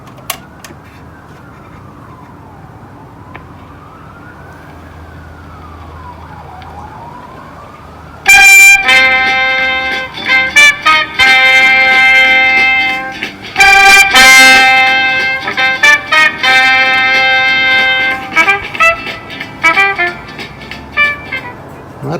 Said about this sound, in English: put a record on it and see what happens